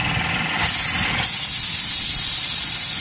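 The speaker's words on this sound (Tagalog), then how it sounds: "open the lip valve to drain water and oil moisture" Steady loud hiss of air venting from the drain valve of a breathing-air cylinder compressor, pushing out water and oil moisture, with a brief dip near the start before a continuous blast.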